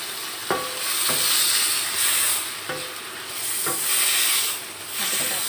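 Chicken is stirred in a frying pan with soy sauce, a steady loud sizzle and hiss under several sharp knocks of the spatula against the pan, with no talking.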